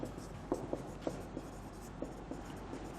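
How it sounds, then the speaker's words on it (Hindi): Chalk tapping and scraping on a classroom blackboard as a mathematics teacher writes, a series of short irregular knocks and strokes at moderate level with faint room noise and no talking. "देखिए मैं लिख रहा हूं"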